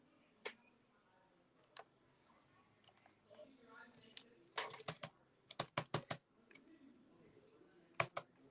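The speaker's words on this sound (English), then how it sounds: "something is not right with my keyboard" Scattered clicks of typing on a computer keyboard, isolated taps at first and then quick clustered bursts of keystrokes, fairly close and crisp against a quiet background with faint murmuring.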